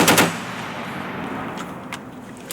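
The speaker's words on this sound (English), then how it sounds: "Place the weapon on fire and engage your target." An M240 machine gun fires a rapid burst at the start, then goes quiet with a long ringing echo and a couple of faint distant shots, loud and up close.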